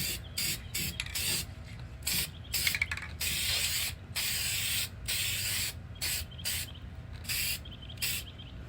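A spray can hisses in quick repeated bursts with brief gaps as a thicker coat goes onto a spare tire rim with the tire still mounted. The sound is close and fairly loud, and no one talks.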